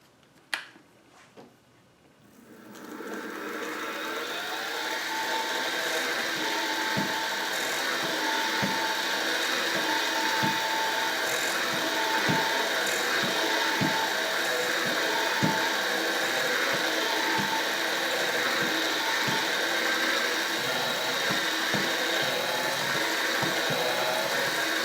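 A drill press boring through knife handle scales and aluminum for a full-tang knife: a quiet start, then the machine spins up to a steady loud whine with faint regular ticking, continuing unbroken and close.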